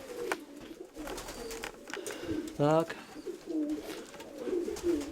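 Pigeons coo in low repeated rolls inside an upper loft box, with a voice speaking briefly over them and a short sharp call in the middle.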